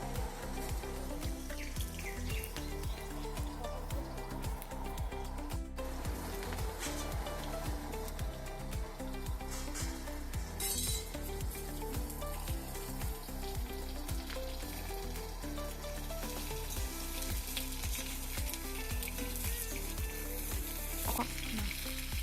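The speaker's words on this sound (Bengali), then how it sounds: "পটলটা একটু হালকা ভেজে নেবো" Pointed gourd pieces frying lightly in a pan of oil, a steady close sizzle with occasional stirring scrapes and faint bird chirps in the background, no talking.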